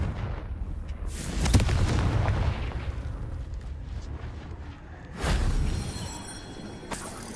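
Two booming blasts from the Confringo fire spell in Hogwarts Legacy, one near 1.5 seconds and a heavier one near 5 seconds, each with a broad rumbling tail over a dull game background.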